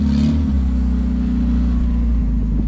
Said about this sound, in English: I just want to show you how it pulls. It pulls really good. Let's go for a drive.